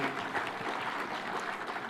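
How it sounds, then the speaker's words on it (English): Continuous clapping from a crowd at a devolution conference in Homa Bay, Kenya, steady and fairly dense throughout, with no voices standing out. "A better applause for Waziri Mbadi."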